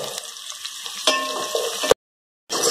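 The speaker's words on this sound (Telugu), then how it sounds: "ఆనియన్స్ కూడా కొంచెం బ్రౌన్ కలర్ వచ్చేంత వరకు ఫుల్ గా ఫ్రై చేసుకోవాలన్నమాట" Chopped onions, garlic and chilli frying in a pan for coconut milk pulao, a close crackling sizzle with light utensil scrapes, a sharper burst near the end, then a brief silence before the sizzle resumes.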